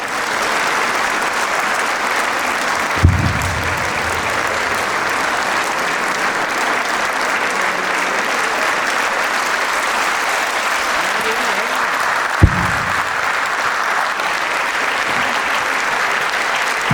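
Audience applause welcoming an Azerbaijani People's Artist onto the stage at a Ramadan concert: steady, sustained clapping from a large crowd that fills the whole stretch, with a couple of sharp thumps partway through.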